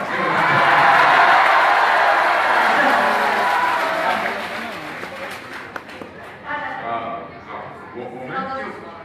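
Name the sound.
audience applause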